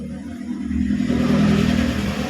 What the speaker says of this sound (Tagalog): May nasiraan kasi ng motor.